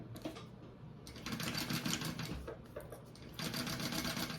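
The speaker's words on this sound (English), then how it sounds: "I'm sewing the top part of this, and I'm basting that" An industrial sewing machine set to a long basting stitch sews a back piece onto a waist bag, a faint rapid mechanical chatter that runs in bursts with short pauses.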